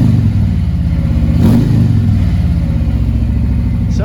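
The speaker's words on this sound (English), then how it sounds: "Sounds like a Harley." A 2019 Harley-Davidson Street Glide Special FLHXS with a 114 engine and Stage 1 louder-than-stock pipes rumbles loud and close with a deep, steady low throb, swelling into one brief rev before settling back.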